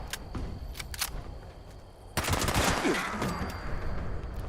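Rapid automatic gunfire in Fallout 76, a dense burst of shots that starts suddenly and runs for about two seconds. It is preceded by a few sparse single shots and trails off into a noisy tail, moderately loud.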